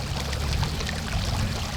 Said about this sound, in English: right next to me is this flowing glacial water